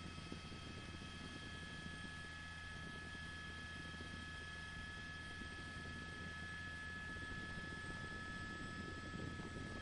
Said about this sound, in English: They have the helicopter overhead.